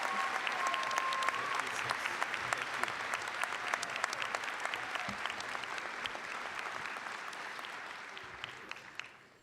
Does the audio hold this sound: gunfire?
no